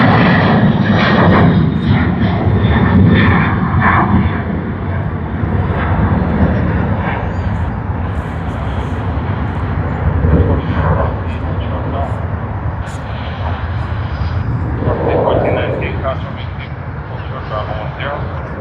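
A jet airliner roars loudly down runway 34 left at Sydney Airport and lifts off, its broad, sustained engine rumble filling the scene from start to finish, with a voice talking over it.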